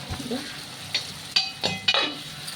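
Washed dried fish goes into a pan with cooked-down tomato, and a few sharp clattering scrapes and taps of a spoon against the pan rise over a faint sizzle, close by.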